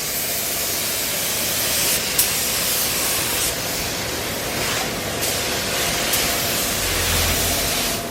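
Spray gun applying a second coat of red paint to Mercedes SL600 parts gives a steady, close, continuous hiss with slight variations and no pauses.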